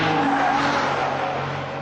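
A Maserati MC12 sports car under hard acceleration, a loud, sustained engine roar with a steady high-pitched tone and no voices.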